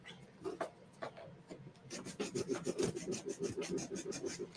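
Sandpaper rubs back and forth across the dried edge of a handmade memory tile, a rhythmic series of close, gritty rasping strokes that grow steadier and louder after a quieter start.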